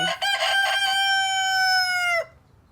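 A pet rooster kept in a backyard garden crows once, loud and close, in a long drawn-out cock-a-doodle-doo that trails off abruptly into near quiet.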